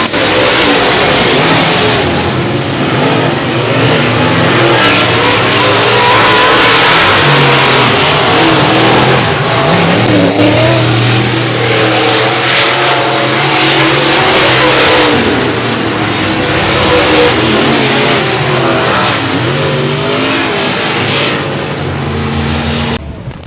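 Touring Outlaw Modified Series race cars roar around Heart O' Texas Speedway under green-flag racing in a loud, continuous engine din, with revs rising and falling as the pack passes close by.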